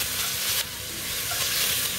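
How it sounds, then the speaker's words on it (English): Bacon crackles and sizzles steadily in a hot pot, a dense hissing spatter close up with no voices. "Get some bacon cooking up in there. Can you hear it sizzling?"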